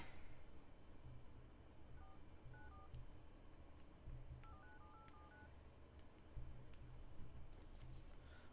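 A telephone number is dialled with DTMF keypad tones: two short clusters of beeps, faint and close, over a low background hum.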